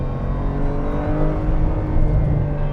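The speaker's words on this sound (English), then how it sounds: "The sports exhaust bellows out loud into the air" Porsche 992 Cabriolet (2022) with sports exhaust and a turbocharged 450 bhp engine, accelerating hard with a loud, close, rising roar and a dense low-end rumble that swells toward the end.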